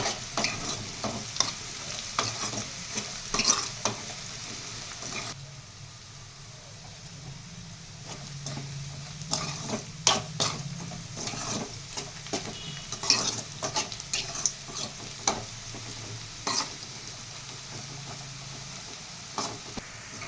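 Small fish (chowruchukka) frying in a pan in village-style cooking, a soft steady sizzle broken by repeated sharp scrapes and clinks of stirring, close and fairly quiet with no talking.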